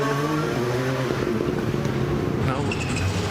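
A rally car engine drones with rising harmonic tones as it runs a sighting lap on a forest rally stage, heard fairly close and loud over a steady rumble while a commentator talks over it.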